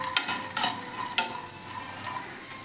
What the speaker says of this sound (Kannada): ಇದನ್ನು ಚೆನ್ನಾಗಿ ಫ್ರೈ ಮಾಡ್ಕೋತಾ ಇದ್ದೀನಿ.